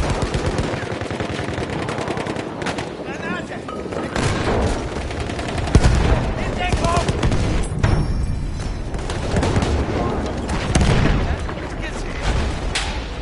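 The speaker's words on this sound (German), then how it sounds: "Maschinengewehr, eindeutig feindlich." Battlefield 1 battle with machine gun fire, dense rapid bursts and booming explosions layered continuously, loud and chaotic, with voices talking over the din.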